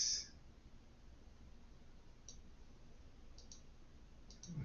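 A few faint, sparse mouse clicks while a screen snipping tool is used on a computer, scattered across an otherwise quiet background.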